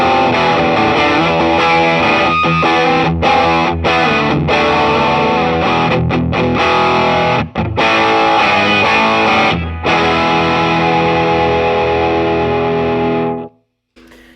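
An electric guitar played through a humbucker pickup with heavy distortion, a loud sustained chord ringing with brief breaks, then cut off abruptly near the end.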